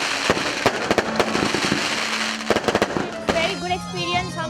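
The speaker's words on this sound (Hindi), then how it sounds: "शानदार आतिशबाजी तकरीब के शुरका की तवज्जो का मरकज बनी रही।" Fireworks at a Diwali festival celebration in Karachi, with rapid loud bangs and crackling bursts in quick irregular clusters, and voices heard toward the end.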